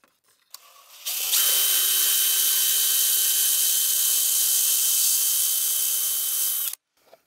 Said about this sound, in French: Et on va percer jusqu'à la bague.